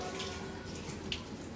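Water splashing and running during wudu washing of the arms and forehead, a low continuous wash of flowing water close by, fairly quiet and without talk.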